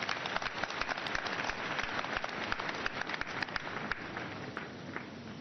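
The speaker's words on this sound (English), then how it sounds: "let's clap for Jesus Christ." A church congregation at a Sunday service claps together, a dense, steady patter of many hands that stays fairly even in level throughout with no voices over it.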